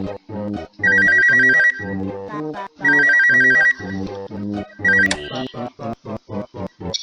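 A telephone rings in the video game DSaF 3, sounding three electronic trilling bursts over a steady rhythmic background beat, clear and close with short pauses between rings.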